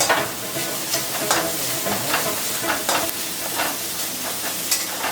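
Grated coconut and sugar fry in a pan under repeated scraping strokes of a spoon, with a soft sizzle running beneath the rhythmic stirring; nobody talks.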